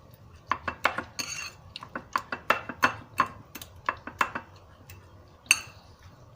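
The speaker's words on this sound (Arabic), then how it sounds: "هجيب بقى بوله كده انزل فيها البتنجان بتاعي اهرسه كويس" Cooked eggplant being mashed in a bowl, heard as a steady series of sharp clinks and taps from a utensil striking the bowl, close and fairly loud, irregularly paced.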